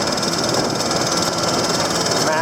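A small engine runs at a steady idle close by, a loud and continuous chugging hum with an even mechanical rattle and nothing else over it.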